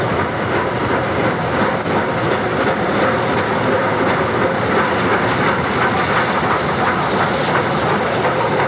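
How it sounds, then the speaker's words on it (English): Engine 611, a steam locomotive run on excursion trips for rail fans, heard as a loud, steady, continuous rumble of a train moving along the rails, with a faint clatter running under the roar throughout and no voices. "Even in 1959, Engine 611 powered excursion trips for the rail fan."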